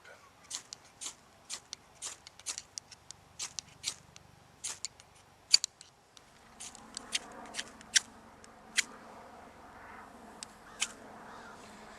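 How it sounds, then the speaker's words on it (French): Fire starter struck repeatedly with a classic German army knife to light a ball of duct tape, giving a series of sharp, close scraping strikes at an uneven rhythm with quiet pauses between them. "je vais prendre de l'allume-feu avec mon couteau classique de l'armée allemande"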